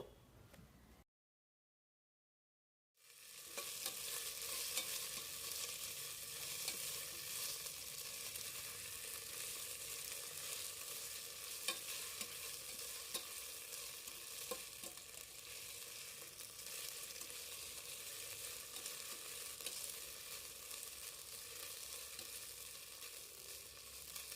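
Vermicelli and sabudana are stir-fried in a pan for kheer, making a steady, dense sizzle with faint stirring scrapes. The sizzle starts after a short silent gap and continues without talking.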